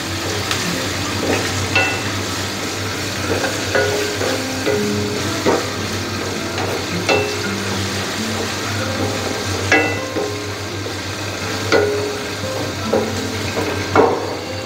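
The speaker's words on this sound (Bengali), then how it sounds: "এগুলোকে একটু ভেজে নিব।" Washed dry spices fry in a pan for a mutton curry, a steady close sizzle broken by repeated scraping and knocking as a spoon stirs them, with no talking.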